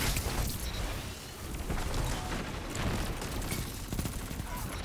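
SMG fire on the Endless Vale Control map in a first-person shooter: rapid, loud bursts of automatic gunfire crackle almost continuously, layered with impacts and game effects, with no speech over it.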